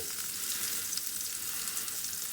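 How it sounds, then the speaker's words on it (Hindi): Garlic cheese bread slices frying in a pan over a slow flame give a steady, even sizzle that runs unbroken throughout, close and moderately loud with no voices. "इसको हम लोगों को स्लो फ्लेम पर ही पकाना है ताकि हमारी जो चीज़ है वो भी अच्छे से मेल्ट हो जाए"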